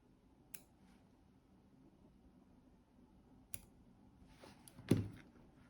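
Small scissors snip thread stems while a fly is tied, giving a few quiet isolated clicks spaced seconds apart, the last one sharper and louder, in a near-silent room.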